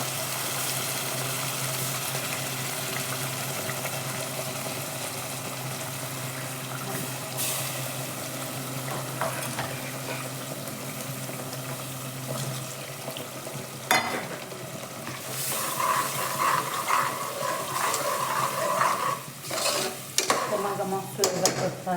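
A tomato, ginger, garlic and coriander paste fries in a pan with a constant sizzling hiss. Scraping and stirring grow busier and louder in the second half. No talking.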